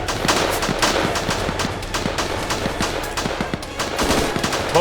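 Rapid automatic gunfire rattles nonstop in a war video game battle between North Korean and South Korean troops on an island, dense overlapping bursts, loud and close, with no talking.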